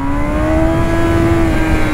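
Honda CB1000R motorcycle engine pulling hard under acceleration on the road, a loud, steady drone with a rising pitch and no voices over it.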